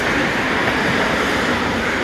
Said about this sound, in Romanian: M-am suit în metro și mă duc cu metrou până la gara centrală